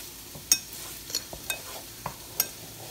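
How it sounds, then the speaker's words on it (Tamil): A spoon scrapes and taps in a bowl as curry powder is mixed into tuna filling, several sharp clicks and soft scrapes spaced irregularly over a quiet background. "நல்லா போட்டுட்டு நல்லா மிக்ஸ் பண்ணுங்க."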